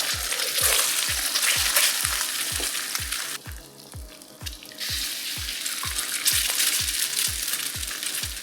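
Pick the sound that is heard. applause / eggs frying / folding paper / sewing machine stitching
eggs frying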